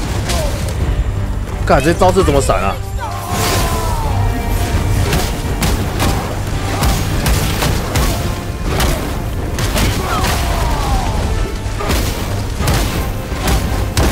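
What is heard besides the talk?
explosions from God of War video game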